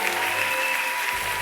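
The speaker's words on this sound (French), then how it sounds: "Continuez d'acclamer." A church congregation applauding, a dense, sustained wash of clapping from many hands filling the whole short stretch.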